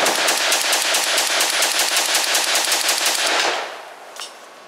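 CETME Model L rifle firing a long rapid burst of evenly spaced loud shots for about three and a half seconds, then stopping, followed by a single faint metallic clack.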